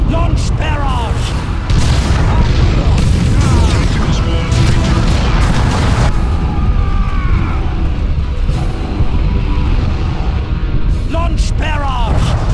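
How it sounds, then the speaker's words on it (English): Artillery barrage explosions in the Dawn of War II: Chaos Rising strategy game, a dense run of booms and blasts rolling on for the whole stretch, loud and continuous, with game voice callouts over them. "Launch barrage! Launch barrage!"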